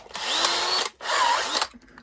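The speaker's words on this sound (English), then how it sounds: "We got a tiny little wire brush in a drill." A tiny wire brush spinning in a power drill, cleaning soldered model hand rails: two close whirring bursts about three-quarters of a second each, separated by a short pause, with the pitch sliding as the motor speeds up.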